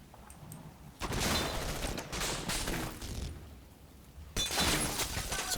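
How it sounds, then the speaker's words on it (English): Long-range heavy machine gun fire in Combat Mission: Battle for Normandy comes as two loud, noisy bursts of crackling fire, the first lasting several seconds, over a quiet background. "So some long range MG fire"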